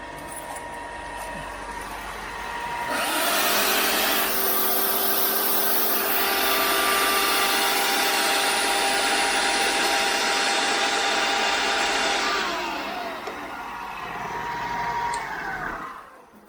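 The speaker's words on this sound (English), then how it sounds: "Here comes the belt sander. Here comes the drill press. Here comes the saw." A belt sander, drill press and saw whir up one after another on one power strip into a loud, layered motor roar that holds steady, then winds down near the end.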